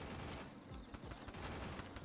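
Rapid gunfire in an online 4v4 shooter match crackles in quick bursts, a dense run of shots rattling close and fairly faint through the whole stretch, with no speech over it.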